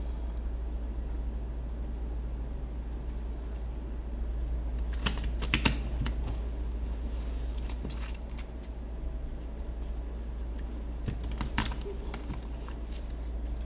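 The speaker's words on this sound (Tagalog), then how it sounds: "balasahin natin ulit mga idol." A deck of playing cards is shuffled during a card trick, giving a few quick papery riffling bursts over a steady low background hum, with no voices.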